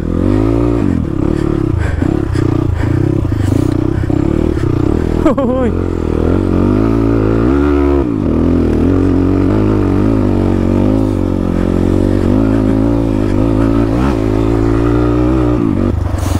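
A faulty motorcycle's engine runs loudly and close on an offroad ride near Sarangkot, Pokhara, its idle rising and falling with revs, with some clattering and a voice speaking over it.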